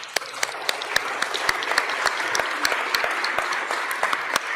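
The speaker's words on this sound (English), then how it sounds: "give yourselves a round of applause" A meeting room of attendees gives a round of applause, with steady, moderately loud clapping and distinct individual claps standing out throughout.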